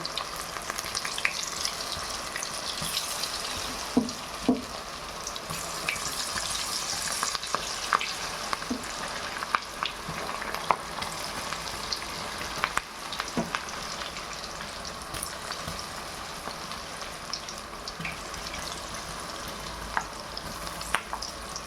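Potato vada fry in hot oil, a continuous bubbling sizzle that holds steady throughout with scattered small crackles and occasional soft clicks, close and fairly loud, with no one talking.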